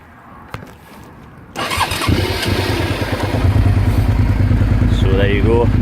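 A 2005 Suzuki SV650S motorcycle cranks over and fires up, settling into a loud, steady idle up close after a quiet start, with someone speaking briefly over the engine.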